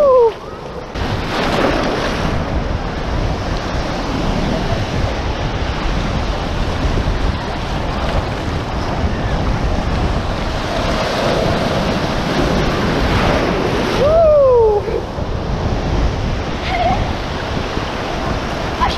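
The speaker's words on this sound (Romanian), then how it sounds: "Wow, ce valuri!" Large sea waves break and surge continuously along a shore with wind buffeting the microphone, a dense steady roar lasting the whole stretch, with a brief high squeal near the end.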